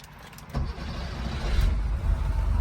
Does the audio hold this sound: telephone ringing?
no